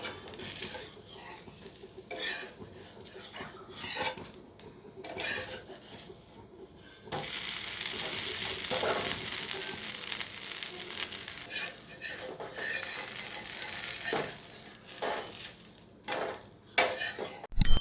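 Tomato dosa cooking in sesame oil on a pan, with a soft sizzle that swells into a broad, steady frying hiss after the flip, and light utensil clinks.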